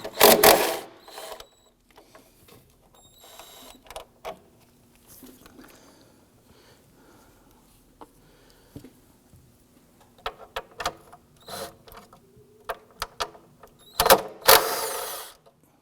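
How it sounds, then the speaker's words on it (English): A 10mm socket on an extension ratchets in short bursts of clicks while removing an ignition coil on a 2015-2020 Ford F-150 2.7L V6, with quiet gaps and a louder metallic clatter near the end. "we're going to use our 10mm socket with extension"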